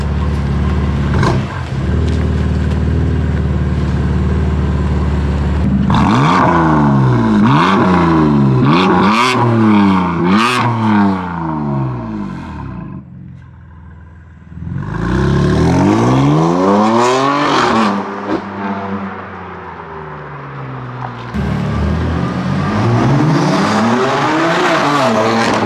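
BMW M4 F82 with Akrapovic catless downpipes and Stage 2+ tune revving hard in repeated sweeping bursts, with popping burbles on the overrun between revs, loud and close with no talking.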